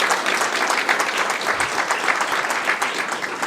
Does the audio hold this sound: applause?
yes